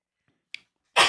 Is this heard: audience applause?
no